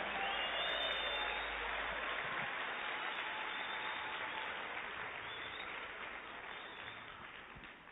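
Church congregation applauding for God during a sermon, a broad continuous wash of clapping that fades slightly toward the end, somewhat distant and muffled.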